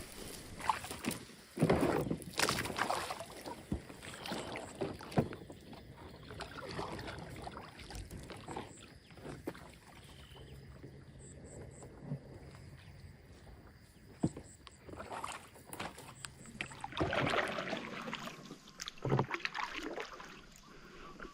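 A small boat moves on water during a fishing trip for giant snakehead. Irregular splashes and paddle-like strokes come in uneven bursts, fairly faint, over a quiet watery background.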